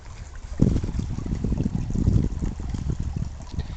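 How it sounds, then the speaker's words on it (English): Water runs and trickles over rocks nearby outdoors in spring, a continuous babbling flow with small splashes, no talking. "listening to the beautiful sounds of running water over rocks"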